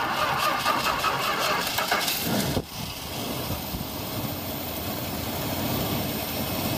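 A 1969 Imperial engine catches and starts, cranking and revving loudly for a couple of seconds before dropping abruptly into a steady, even idle that carries on alone.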